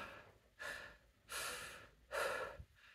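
A horn player draws three quick, close breaths through the mouth, each a short airy rush separated by brief pauses, quiet and intimate.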